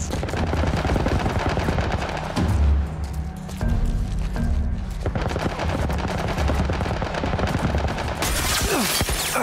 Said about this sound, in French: il nous tire dessus avec toi. Un genre de tourelle militaire, reste baissé.